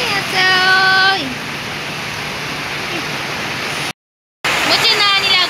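Heavy rain falls as a loud, continuous rushing hiss. A voice talks over it at the start and again at the end, and there is a short silent gap.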